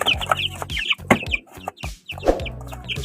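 A chick and other chickens cluck in short, close bursts, several overlapping calls across a few seconds, with no talking.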